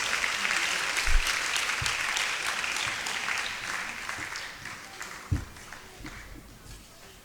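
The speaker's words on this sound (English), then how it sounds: "please help me welcome upstage Mr. Charles Boabin with a round of applause." Audience applause welcoming a guest on stage at a university faculty event, a dense sustained clapping from a crowd that gradually thins and fades, with a few louder thumps.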